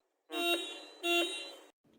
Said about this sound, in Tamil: இதுதான் இந்த வண்டியோட ஹார்ன் சவுண்டு